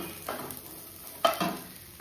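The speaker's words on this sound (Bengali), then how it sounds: "দেখো সবজিগুলো মোটামুটি ভাজা হয়ে গেছে।" Vegetables fry lightly in a pan for a restaurant-style veg pulao, with quiet sizzling under a couple of distinct stirring scrapes and clinks close by.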